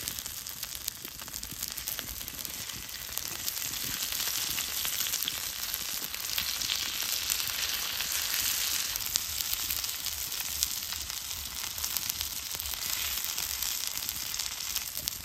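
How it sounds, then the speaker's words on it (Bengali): Spice-coated fish frying in oil, a faint but continuous hissing sizzle with scattered crackles, steady and even throughout. "মাছটা বারে বারে ভাজাবো আর যত মশলা আছে এইভাবে নাগাই দিয়ে দিব।"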